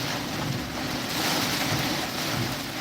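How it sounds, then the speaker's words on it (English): Heavy rain pours down during a thunderstorm, a loud, dense and continuous hissing roar close by with no distinct thunder claps and no speech. "My God, it is pouring buckets out here"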